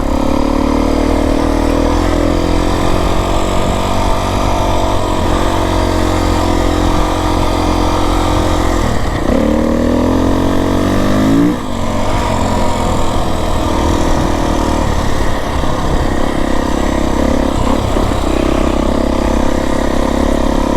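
A Beta 350 dirt bike ridden through desert sand and washes, its engine droning steadily and loudly close by for the whole stretch, with pitch swings as the rider works the throttle midway.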